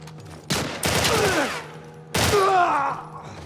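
Gunfire from a weapon in The Last of Us, two loud bursts of rapid automatic shots, each ringing out and tailing off before the next.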